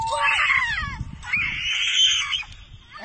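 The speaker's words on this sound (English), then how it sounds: "Wow, what a screaming!" A 12-year-old girl screams during a bungee jump, two long high-pitched shrieks that rise and waver, loud against wind rumble, with no talk.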